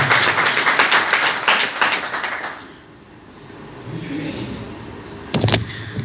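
An audience at a Pashto literary Eid poetry gathering applauds to welcome a speaker: dense, close clapping for a couple of seconds that dies away into low room murmur, ending with a sharp thump.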